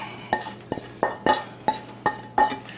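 A spatula scrapes sautéed vegetables out of a hot pan, with about six sharp metallic scrapes and knocks at a steady pace, close and clear, with no one talking.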